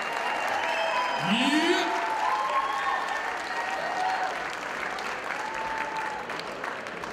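An audience applauds and cheers at a house dance battle. Steady clapping and crowd noise fill the whole stretch, with a whistle near the start and a voice shouting briefly over it.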